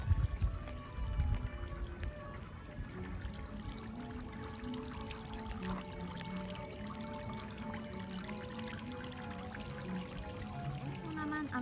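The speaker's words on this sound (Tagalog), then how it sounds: "May ano pa siya talaga ng tubig. Ito yung fountain." Fountain water pours and splashes steadily outside Akasaka Palace in Tokyo, a continuous watery rush with a stronger burst at the start and faint tonal background sounds throughout.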